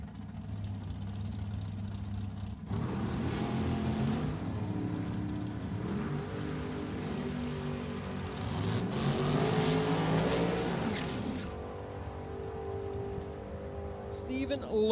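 Drag race cars at Maple Grove Raceway during an NHRA Lucas Oil Drag Racing Series event, engines rumbling and revving after burnouts, a sustained loud drone with surges and a sharp shift near the end.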